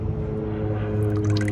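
Water and coolant drain from an opened cooling pipe on an Audi R8 broken down in Alaska, a brief close gurgle with wet squishing drips over a low hum.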